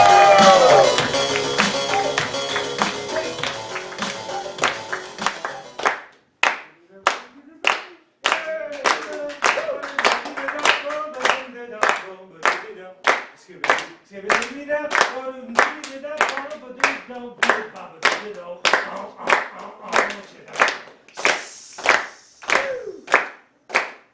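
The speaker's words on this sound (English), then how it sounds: "please give a warm round of applause for Cirque de Nada" Audience clapping after a compère introduces the act Cirque de Nada at a live show, starting as dense crowd applause and thinning into loud, slow rhythmic claps in unison with a few cheers.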